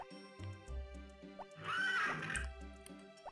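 A horse in the video game Harvest Moon Back to Nature lets out a single whinny midway, heard over chiptune-style game music and short tonal blips.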